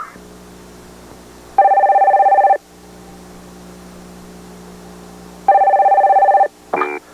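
A telephone answering machine: a phone rings twice in long electronic bursts separated by a pause, followed by a short beep over a low background hum.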